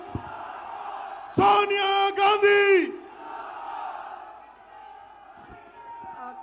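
A large crowd at a Congress party rally in Jaipur erupts into a loud, short burst of cheering and chanted shouting after an amplified announcer's voice, then fades back to murmuring.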